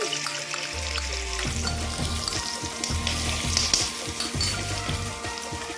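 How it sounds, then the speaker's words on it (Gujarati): Tempering for brinjal bharta sizzles in hot oil in a pan on a stove, a steady crackling fry that stays close and fairly loud, with low thumps and clatters from stirring mixed in and no talking. "હવે આપણે વઘાર કરશું ભરથાનો."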